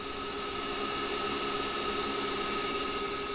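A CNC lathe turns brass parts at 4000 rpm, giving off a steady, dense high-pitched whine and hiss with a faint squeal, constant and unbroken throughout, with no talking.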